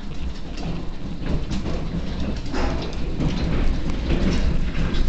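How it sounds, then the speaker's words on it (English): Hail hammers the ground in a loud, steady roar during a Colorado storm, with dense thumping impacts that swell and fade across the whole stretch, close by and without a voice. "If you can hear the thumping, that's the hail."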